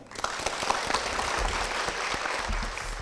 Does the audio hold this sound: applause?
yes